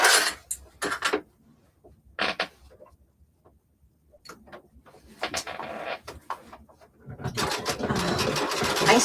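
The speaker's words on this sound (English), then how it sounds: "I'm going to top stitch this quick so I can show you how good it looks." A sewing machine top stitches a fleece vest in short bursts, with pauses between runs and a longer, louder continuous run at the end, heard up close with no talking.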